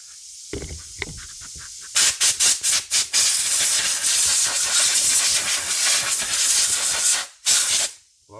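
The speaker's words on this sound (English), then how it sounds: "blow off the outside with a little compressed air." Compressed air blasts off the outside of a small Yard Machines 5HP snowblower carburetor in a loud, close, steady hiss, opening with several short sharp bursts before one long sustained blow that cuts briefly near the end.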